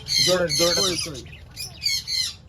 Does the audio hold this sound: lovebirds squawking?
yes